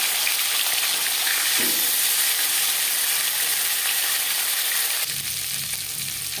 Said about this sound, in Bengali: 3 চামচ সরষের তেল গরম করে নেওয়ার পর দিয়ে দিলাম ম্যারিনেট করে রাখা মাছের মাথা